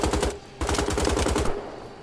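Rapid automatic gunfire in the video game Wolfenstein: The Old Blood, two loud close bursts of repeated shots separated by a short pause, with no talk over them.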